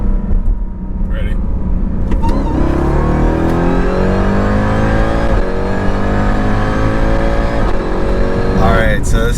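A built Jeep Trackhawk of roughly 1000 hp with a stroker motor accelerates hard through a third-gear pull, its engine roaring loud and close, the pitch climbing steadily across the run before a gearshift near the end.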